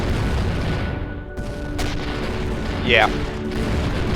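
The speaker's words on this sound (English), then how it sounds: "I'll very quickly show you by turning on my salvage guns" Salvage guns fire in the space game Avorion, sharp bursts and a rising whine that sit above a steady low rumble of ship noise while a voice speaks briefly.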